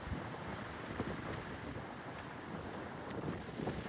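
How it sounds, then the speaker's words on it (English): Steady wind buffets the microphone on a hilltop in a constant low roar, with occasional gusts and no voices. "I hope you can hear me over the wind, because it's windy up here pretty good"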